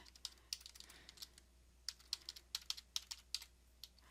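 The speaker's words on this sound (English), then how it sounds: "Now remember, we're just typing border now" Typing on a computer keyboard while entering CSS border code, heard as irregular bursts of crisp, close key clicks with short pauses between runs, no voices.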